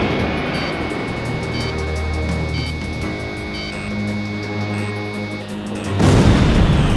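Jet fighter plane in the Ace Combat 5 flight game, a steady roaring engine drone with repeated beeping tones over it, ending in a louder rushing surge.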